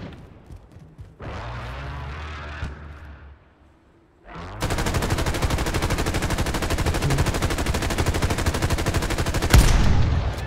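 Call of Duty: Warzone battle royale gunfire: a short burst of firing, a pause, then a loud, sustained automatic machine-gun stream lasting about five seconds, ending in a heavier blast.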